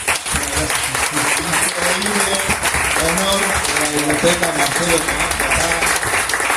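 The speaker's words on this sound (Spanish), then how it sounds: "Primero que nada, un aplauso." An audience at a Spanish-language talk applauds in a steady patter of many hands while someone speaks over the clapping throughout.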